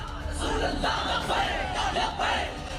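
A large crowd gathered to hear Saad Rizvi roars and chants in a continuous, dense swell of many voices, loud and sustained throughout.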